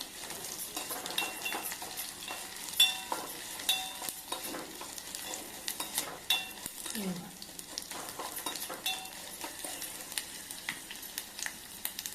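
Continuous crackling sizzle of tempering spices frying in hot oil for chana dal coconut curry, with scattered pops and occasional stirring clinks throughout, fairly close.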